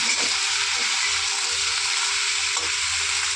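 Chopped vegetables and water spinach fry loudly in a pan, a dense, steady sizzle with occasional stirring scrapes, no voices.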